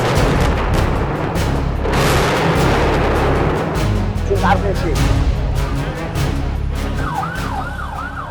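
Israeli bombs and artillery strike Lebanon: heavy booms and sharp cracking bursts rumble over a continuous low roar, a wailing siren rises near the end, and a voice is heard over the scene.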